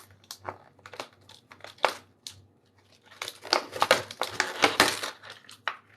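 Tape peeled off the side of toy packaging: a quiet, scattered stretch of small clicks and handling, then a louder, sustained run of crinkling, ripping, and plastic crackle up close, with no talking.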